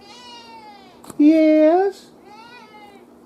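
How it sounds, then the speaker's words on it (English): A pet cat gives one clear, drawn-out meow at close range, loud and rising at the end, framed by soft murmuring speech before and after. "Oh, you little kitty."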